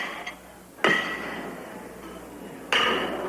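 Two pitched horseshoes hit an iron stake in turn, each landing a bright, ringing metallic clang that fades slowly, about two seconds apart, close and without voices.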